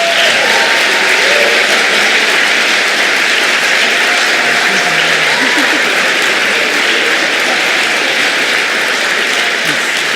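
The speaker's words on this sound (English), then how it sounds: "So a round of applause for our student leaders." Audience at a 2017 leadership studies school finale ceremony applauding its student leaders: a steady, dense wash of clapping from a large crowd, loud and sustained throughout.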